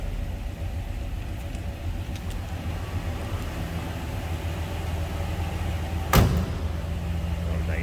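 A 1970 Chevrolet Malibu Sport Coupe door shutting once with a single solid thump, heard over the steady low rumble of the idling engine.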